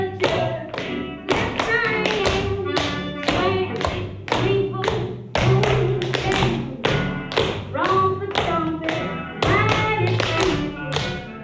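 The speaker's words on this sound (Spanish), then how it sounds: "el claqué, como diferencia en otros bailes, es sonoro" Rapid tap dance footwork, crisp metal taps striking the floor in fast rhythmic bursts and flurries, close and fairly loud, mixed with a steady musical accompaniment underneath.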